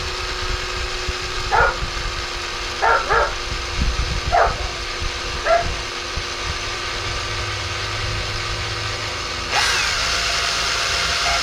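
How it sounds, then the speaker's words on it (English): A power drill bores into the plastic lens of a Ford Kuga tail light as a steady, loud whine over a constant hum, with a dog barking several times in the background and a sharp jump in pitch near the end. "So we'll just drill it into the lens."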